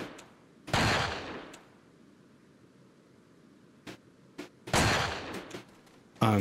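Gunfire in the Resident Evil video game: a loud burst of shots, a few isolated cracks, then another heavy burst and a final close blast, with no voices.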